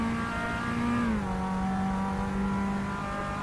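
Race car engine in the Assetto Corsa racing game holding a steady, loud drone whose pitch drops as a gear change grinds through the transmission, continuous with no talking.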